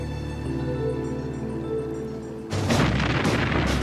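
A low droning rumble gives way to a sudden loud blast of booming noise that keeps roaring, like heavy cannon fire close by.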